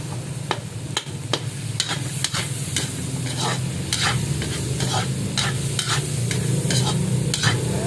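Guava pieces and vegetables sauté in a pan with a steady sizzle, broken by repeated scraping and stirring strokes of a spatula, close and alone with no talk.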